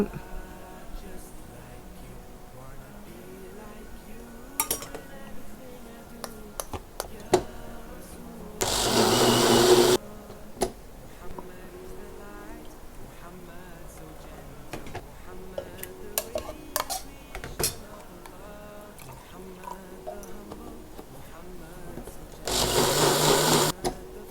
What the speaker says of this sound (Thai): ถั่วที่เราคั่วแล้วเราต้มเปื่อยแล้วเราก็จะนำมาปั่น กับกะทิหรือน้ำ